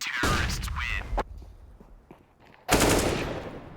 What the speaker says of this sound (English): Ooh, important headshot there to at least save the AK.